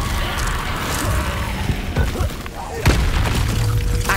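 A fire spell cast during a Hogwarts Legacy battle, heard as dense layered booms and crackling impacts that run continuously, with a sharp louder burst near the end, amid busy combat noise and voices.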